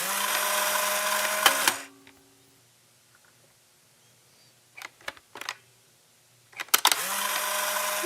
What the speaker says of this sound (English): It's a Polaroid camera.